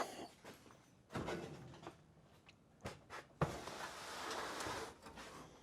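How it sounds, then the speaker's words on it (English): Wooden drawers are lifted and slid into a box, giving a series of scattered knocks, thumps and scraping slides with quiet gaps between them. "So now I'm going to lift the drawers up, get them in, and then we can keep going with this box."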